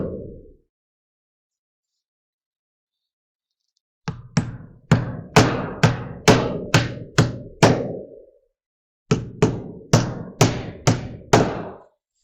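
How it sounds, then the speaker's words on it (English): Nails are hammered into a roofing shingle starter strip near the tar strip, with two quick series of sharp, evenly spaced blows, about eight in the first run and six in the second, after a short pause. "I'm gonna nail close to the tar strip"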